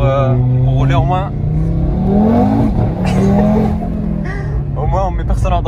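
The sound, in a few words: Audi TT RS stage 2 engine revving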